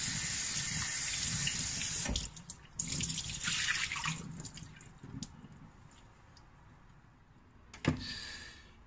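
Running tap water rinsing salted jellyfish in a sink. A steady, hissing stream for about two seconds, then softer splashes, squishing and a few drips as the tap eases off.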